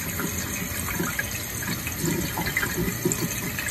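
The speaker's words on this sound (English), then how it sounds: "So let me just keep running some water." Tap water running into a sink while a hand is rinsed, a steady splashing gush with slight fluctuations throughout, close and moderately loud, with no talking.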